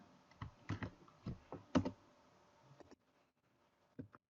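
Computer keyboard typing while a PLC program is written, a short burst of separate key presses at close range, then a pause and one last tap, with no talk.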